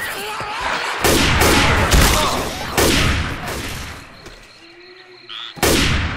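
Gunfire at zombies in the video game Left 4 Dead 2, loud bursts of rapid shots and heavy booms that cut off and resume, with game noises in the short quieter gap.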